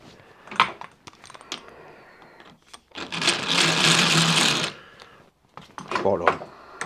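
Small metal parts being chamfered on a workshop machine, with bursts of mechanical whirring and scraping, a sustained louder grinding stretch in the middle, and short clicks and handling noises before and after.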